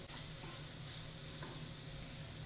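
Sweet potato halwa roasting in ghee in a pan, giving a steady, close, continuous sizzle with light stirring throughout, no voices.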